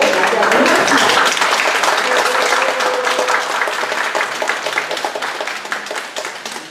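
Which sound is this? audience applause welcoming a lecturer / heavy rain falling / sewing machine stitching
audience applause welcoming a lecturer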